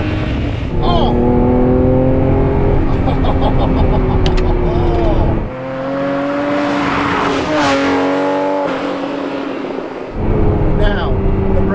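A Ferrari Testarossa's flat-12 engine revs hard while driving, a loud, sustained roar that climbs in pitch with a brief dip as it shifts, heard from inside the car.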